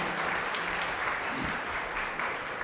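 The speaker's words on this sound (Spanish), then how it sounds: "Fuerte aplauso para todos nosotros, queridos hermanos." A church congregation applauds during a Catholic Mass at San Miguel Arcángel parish in San Lorenzo, with steady, dense clapping filling the whole stretch at moderate loudness.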